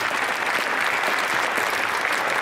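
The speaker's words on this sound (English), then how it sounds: "Give them a big round of applause." Dense, steady applause from a seated audience at a speaking event, loud and continuous throughout with no voices over it.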